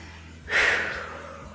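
A single audible exhale during a general yoga class, a short breathy whoosh rising suddenly and then trailing off, close and alone.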